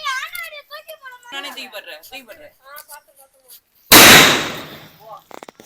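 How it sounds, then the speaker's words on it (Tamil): A firecracker bursts with one sharp, loud bang that decays into crackle, set during Karthikai festivities at home, after someone talks excitedly nearby. "அக்கா வந்து வெடி வெடிக்கிறாங்க"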